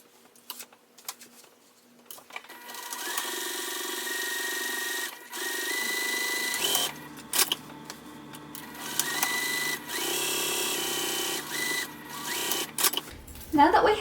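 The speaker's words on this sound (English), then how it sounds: "let's go ahead and sew down both of the sides of this lining piece" A home sewing machine runs steadily while stitching down both side seams of a hobo bag's lining piece, its motor whirring in long continuous bursts with brief pauses, close and fairly loud, while a person talks at times.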